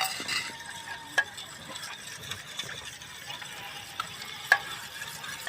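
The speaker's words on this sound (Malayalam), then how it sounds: "ഇനി അത് നല്ലോണം ഒന്ന് മിക്സ് ചെയ്ത് കൊടുക്കാം." A milk mixture for homemade bread pizza is stirred by hand, close scraping and soft clinks with a few sharper knocks against the container, irregular and unhurried.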